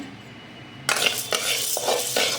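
A spoon scrapes and clinks against a pan while lentils and spices are roasted for curry leaf podi, giving a few close, sharp metallic strokes over a soft background hiss.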